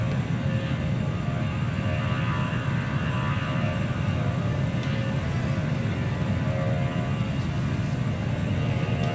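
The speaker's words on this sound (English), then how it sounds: "Yeah, a plane's landing over there." An airplane lands in the Transport Fever 2 video game with a steady, loud, droning engine roar that holds without a break for several seconds, with no talking.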